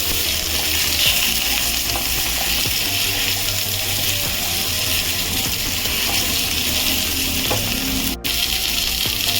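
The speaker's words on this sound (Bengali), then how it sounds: "সবজিগুলো দিয়ে এবার এটাকে ভালো করে ভেজে নিতে হবে" Mixed vegetables tossed into a pan over fried radhuni seeds, frying with a dense, continuous sizzle and hiss, broken by occasional scraping from stirring, with no voices.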